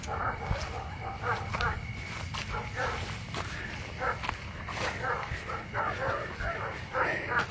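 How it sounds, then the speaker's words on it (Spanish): Agitated dogs bark and yip intermittently across a night scene, with footsteps and hushed voices mixed in the background. "Los perros están como asustados."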